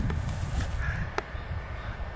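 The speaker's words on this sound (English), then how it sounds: "Those crows are getting agitated about something over there." Agitated crows caw in the woods, faint and distant calls over a low outdoor rumble, with a single sharp click partway through.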